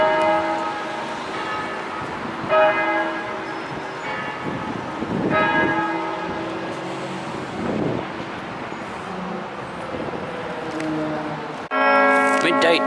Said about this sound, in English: Midday chimes of the great cathedral.